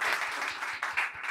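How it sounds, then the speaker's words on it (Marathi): Audience applause at a school event, a continuous mass of clapping from a crowd heard at moderate level, with some louder swells. "माझ्यासाठी टाळ्या वाजवा."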